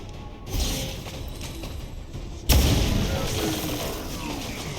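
A pistol shot fires in a video game as one sharp, loud crack partway through, following a quieter thud and rumbling background, with a ringing tail afterward.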